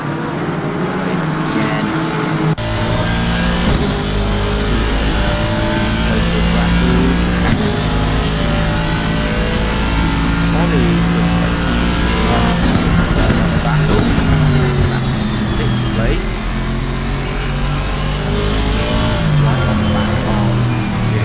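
Loud GT3 race car engines, including a wailing Audi, in Assetto Corsa Competizione at Silverstone, wail and whine, shifting pitch continuously as they accelerate, with a voice talking over the roar.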